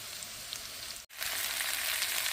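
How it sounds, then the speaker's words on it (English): Steady, loud sizzling of vegetables including green peppers frying in a hot pan for a stir fry, with a brief dropout midway before the crackling hiss resumes. "Getting a nice sizzle on the vegetables"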